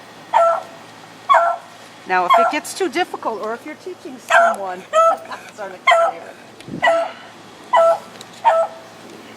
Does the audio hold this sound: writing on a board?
no